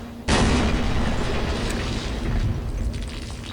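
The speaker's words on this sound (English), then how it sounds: "So mortars come in" Mortar explosions in a Vietnam War strategy game: a sudden loud boom hits sharply and then rolls into a long, heavy rumble that stays dense and sustained to the end.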